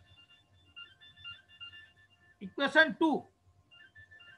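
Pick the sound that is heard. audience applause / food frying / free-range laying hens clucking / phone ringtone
phone ringtone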